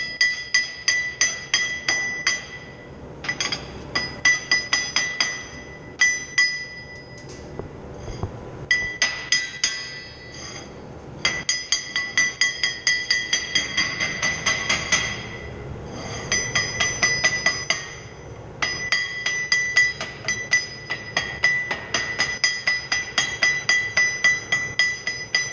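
A hammer knocks dross off a metal casting for a Sherman tank transmission adapter plate, making loud, ringing metallic clinks in fast runs that pause briefly and then resume, with no talking.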